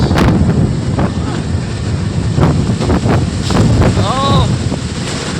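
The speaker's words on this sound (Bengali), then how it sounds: "কাল বৈশাখী ঝড়ের মতো একেবারে ঝড় হইতেছে, সম্ভবত বৃষ্টি আসবে। অনেক মেঘ, অনেক, দেখেন কি অবস্থা, অনেক বাতাস।" Strong Kalbaishakhi storm wind in Nagarkanda, gusting steadily and roaring against the microphone throughout, with brief voices and a faint bird call partly audible under the blustering noise.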